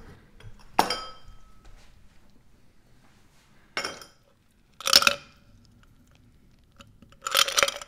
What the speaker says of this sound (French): Comme toujours, on va mettre un peu plus de glaçons parce que nos verres semblent toujours plus gros.